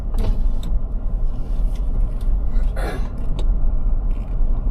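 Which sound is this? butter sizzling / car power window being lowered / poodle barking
car power window being lowered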